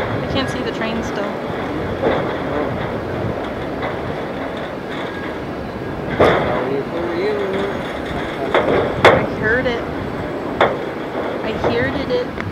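A train passes through the Royal Gorge, a continuous rumble of wheels with rhythmic clacks, sharp metallic squeals and creaks, while people talk quietly nearby.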